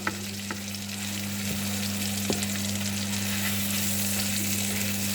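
Beef liver sautéing in a pan gives a steady, even sizzle and crackle that fills the whole stretch, with a few small pops and a low constant hum underneath. Nobody speaks.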